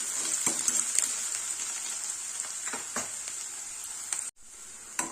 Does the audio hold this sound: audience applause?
no